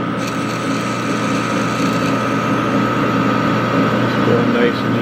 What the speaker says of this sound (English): Here's the pilot drill.